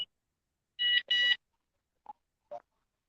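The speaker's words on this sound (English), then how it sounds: "them little buzzers for such a little bitty piece of device, that thing is loud" A small electronic fishing-rod bite-alarm buzzer on the Tennessee River sounds two loud, close beeps back to back, then two short fainter chirps, all against silence.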